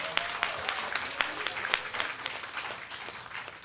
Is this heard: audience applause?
yes